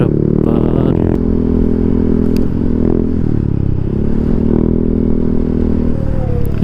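A motorcycle rides over a bumpy road on a solo ride from Tagaytay, its engine droning loud and steady with rattling clatter and scraping jolts from the rough surface throughout.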